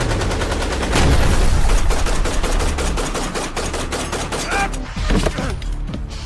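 Rapid bursts of automatic gunfire rattle continuously and loudly, dense volleys of shots running almost without pause.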